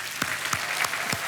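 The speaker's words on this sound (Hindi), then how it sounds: "तालियों के साथ हम चाहते हैं कि उनका स्वागत किया जाए।" Studio audience clapping to welcome contestants on the quiz show Kaun Banega Crorepati, a brief, moderately loud patter of applause with a few sharper thumps standing out.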